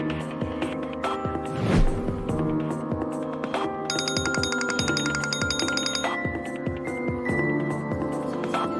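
A telephone rings on and on with no one answering, an electronic ringtone repeating in steady pulses, loud and close with no voices over it.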